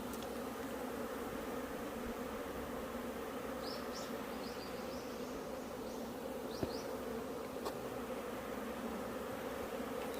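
Hornets and honeybees swarm around hives and a drum-shaped hornet trap at an apiary, making a faint, continuous buzzing drone with a few brief higher whines from passing wings.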